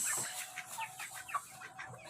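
Close, soft clucking from a fighting rooster, a series of short quick chirrups repeating over a couple of seconds with no speech.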